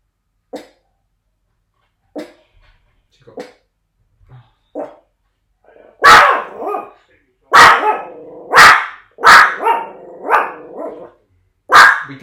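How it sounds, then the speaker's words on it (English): A dog barks repeatedly close by, first a few sparse soft woofs, then a louder burst of sharp barks in quick succession, with a person talking in between. "Oh, we're having a bark break."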